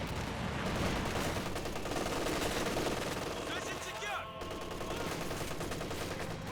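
MG34 machine gun fire in the Company of Heroes 2 strategy game, dense rattling bursts mixed into a busy battle soundscape of other gunfire and effects, with a commentator talking over it.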